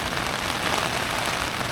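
Heavy rain pours steadily onto a surface near a lakeside in Lapland, a dense, even hiss of countless drops with no pauses, close and fairly loud, no voices.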